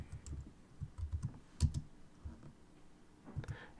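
Computer keyboard keys clicked in a few short, irregular bursts while entering a font size, close and fairly quiet, with no talking.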